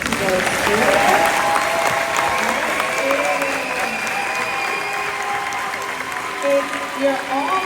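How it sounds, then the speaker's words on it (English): Audience applause fills a high school graduation ceremony, a steady dense wash of clapping from a large crowd throughout, with faint voices mixed in underneath. "let's give a round of applause to those students"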